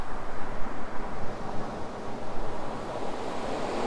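Sea waves and tide wash onto an East Coast UK shore at Kilnsea during a fishing session, a steady, full surf roar with gentle swells in loudness throughout and no voices.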